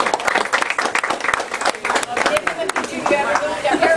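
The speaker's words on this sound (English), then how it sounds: "let's give a big round of applause for Debbie." Scattered hand claps from a small group, irregular and fairly close, mixed with crowd chatter throughout.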